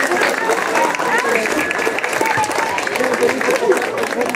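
A crowd at a Guelaguetza calenda festival in Zacatepec, Oaxaca claps enthusiastically, with a dense, continuous applause and some voices mixed in throughout.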